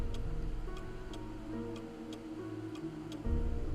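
An old clock ticks steadily in a haunted mansion mystery game, a crisp faint tick about every half second above a low sustained musical drone that swells near the end; no one speaks.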